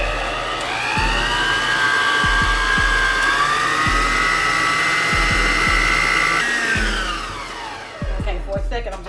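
An electric mixer runs on high speed through cream cheese pound cake batter, a loud sustained whine with the pitch drifting slightly, and repeated knocks of the beaters against the bowl before it winds down near the end.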